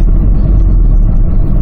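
2005 Kia Grand Carnival accelerating hard at high speed, a loud, close, deep engine rumble with steady road roar and no voices.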